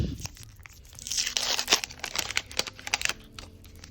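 Crinkly paper tearing and crumpling, with rustles and small crisp snaps as a packet is ripped open close by.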